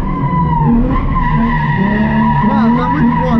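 A car drifts with its tires skidding and squealing loudly and continuously at close range, the engine revving underneath, while a voice shouts briefly over it.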